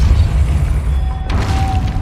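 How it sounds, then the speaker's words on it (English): A spinning mechanism turns to raise a platform in Hogwarts Legacy, a loud, low, continuous rumbling grind with a heavy thud midway, after which the churning carries on. "Making this spin ought to raise that platform."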